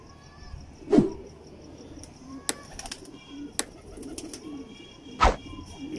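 A teddy pigeon pair coos nearby, a few low throaty calls standing out over a quiet room, with sharp clicks and knocks scattered in between.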